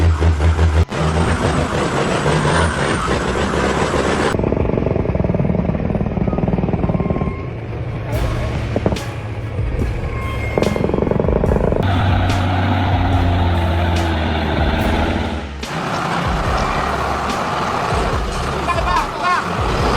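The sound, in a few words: heavy truck engine roaring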